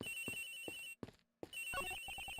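A telephone rings in the video game Miles Edgeworth Investigations. Electronic trills repeat in bursts with a brief gap, then resume, loud and close, with no talk over them.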